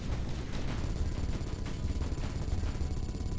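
A Gatling cannon in Space Engineers fires a dense, continuous roar of rapid shots, loud and unbroken throughout, with no talking.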